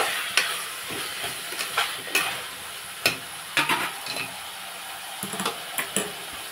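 Potatoes with ginger garlic paste are stirred in a frying pan, giving a steady sizzle with irregular scraping and clinking strokes of the spoon against the pan, close up and with no talking.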